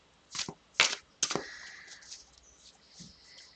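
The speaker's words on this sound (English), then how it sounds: "I'm just going to keep shuffling the cards." Tarot cards being shuffled by hand, heard as a few short, crisp riffling bursts close by in the first second and a half, then fading to softer, scattered card rustles.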